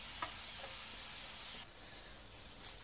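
Finely chopped onion sautés in a pan with a steady, close frying hiss, with a few faint stirring touches and a slight drop in the sizzle partway through.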